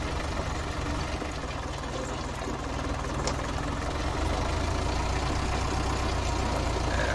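A two-wheel drive Fiat tractor engine runs steadily at a near, even idle-like drone during light spring cultivation on a farm, with a deep low rumble and no speech.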